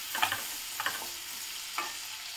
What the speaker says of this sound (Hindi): हम इसे सौते होने देंगे थोड़ी देर सब्जी को